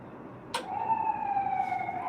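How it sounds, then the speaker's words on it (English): A siren wails at a distance, its steady high tone holding after a brief sharp click, over faint street noise. "hear these sirens?"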